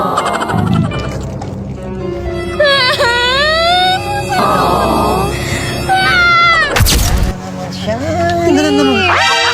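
A cat meows several times in rising and falling cries, some drawn out and fairly close, while people talk nearby and other household noise continues underneath.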